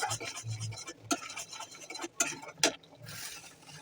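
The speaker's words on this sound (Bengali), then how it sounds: "এখন নেড়ে চেড়ে নেব।" Chicken roast being stirred in a pan after a small amount of dry chili powder goes in, giving soft scraping and rubbing strokes with a few sharp clinks of the utensil against the pan, close and fairly quiet.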